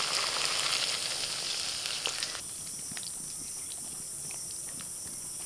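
Hot spice masala with potatoes, vegetable stems and soybean chunks sizzles loudly in a pan. Water goes in, and the frying hiss abruptly drops to a quieter, steady simmering crackle.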